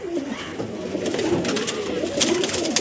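Andhra breed pigeons, a breeding pair of male and female, coo steadily at close range, low rolling calls repeating throughout with a few brief sharper noises over a constant background.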